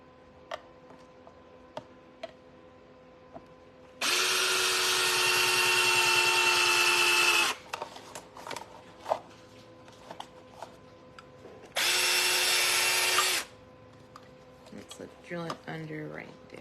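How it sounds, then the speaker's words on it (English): Two bursts of high whining drilling, one long and one shorter, separated by quiet clicks and light handling noises. "So let's drill it right here."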